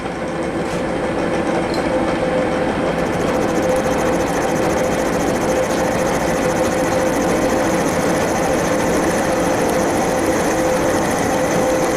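A milling machine cuts a 3 mm deep hole in metal, producing a steady, loud grinding drone with a constant tonal whine and no pauses throughout.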